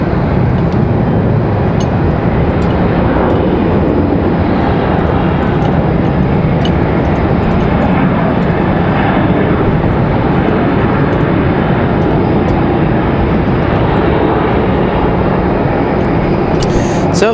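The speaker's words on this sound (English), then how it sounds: "Republic Airways 4765, off to JFK" A Republic Airways jet, flight 4765 bound for JFK, takes off from Raleigh-Durham, a loud, sustained engine roar that stays strong and even throughout, with occasional faint sharp ticks over it.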